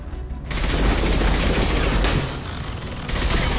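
Sustained enemy gunfire in Mass Effect 2, a dense, loud barrage of shots that barely lets up, with a brief dip in intensity before the volley surges again.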